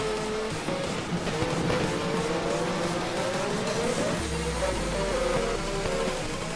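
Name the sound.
safety car driving on track in racing video game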